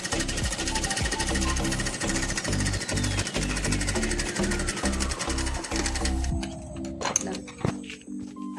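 A sewing machine rattles rapidly and loudly as it double-stitches a bag made from an old woven sack, a fast rhythmic clatter that continues before cutting off, followed by a few clicks and a rising whine.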